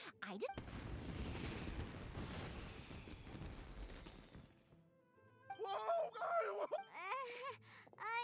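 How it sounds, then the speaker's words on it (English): Fireworks bursting in the video game Genshin Impact, a dense crackling and booming barrage for several seconds that cuts off abruptly, followed by voices speaking alone. "this is turning into a bit of a fireworks display"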